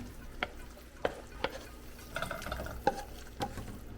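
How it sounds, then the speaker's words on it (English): Char siu bao filling of barbecued pork sauce bubbles in a pan on the stove, with soft irregular pops and plops over a quiet simmer, and no voices. "Okay, it's bubbling."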